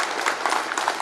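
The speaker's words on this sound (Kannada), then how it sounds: "ಒಂದು ಜೋರಾದ ಚಪ್ಪಾಳೆ ತಟ್ಟೋಣ ನಾವೆಲ್ಲರೂ" An audience at a road safety month event in Davanagere breaks into applause, a dense, steady wash of many hands clapping at once, loud and close, with no talk over it.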